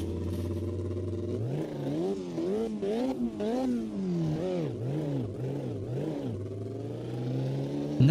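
A 1,400-horsepower BMW-engined Formula 1 car in qualifying trim, in the racing game Automobilista 2, revs hard with rising and falling engine pitch through several quick gear changes, loud and close.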